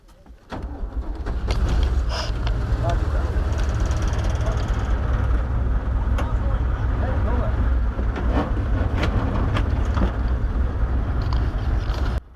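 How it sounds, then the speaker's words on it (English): A small engine on a WW2 Cushman 53 Airborne Motor Scooter starts and settles into a loud, steady idle with rattles and clicks, running close by at a reenactment event with voices faint in the background. "It's also called the Cushman 53 Airborne Motor Scooter."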